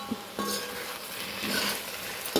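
Liver roast with curry leaves stirred in a pan: a steady low sizzle runs under a few scraping strokes of the spoon, with a sharper clink near the end.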